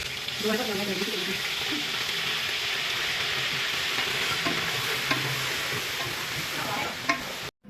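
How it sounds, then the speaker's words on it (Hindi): Chicken frying in a pan with garlic, a continuous loud sizzle with bursts of crackle and occasional stirring scrapes, steady until it cuts off abruptly near the end. "जब चिकन फ्राई होता है और उसके अंदर से जो आवाज़ें आती हैं"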